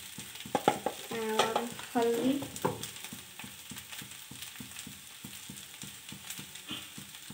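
A mashed vegetable mixture frying in a pan under brisk stirring, a rapid regular clatter of spoon scraping against metal over a continuous sizzle, with a few louder clanks early on and no speech.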